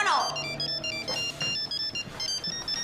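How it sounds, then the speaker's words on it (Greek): Telephone ringing indoors in a Greek TV comedy, a bright electronic ring with steady tonal partials repeating over about three seconds, with voices and background activity mixed underneath. "Τηλέφωνο!"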